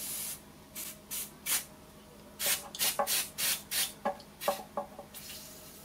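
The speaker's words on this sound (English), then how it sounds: "now I'll give that a generous coating of WD-40." WD-40 aerosol sprayed generously onto parts of a Morso Squirrel multi-fuel stove during maintenance: a series of about a dozen short, close hissing bursts with brief pauses between them, and no talking.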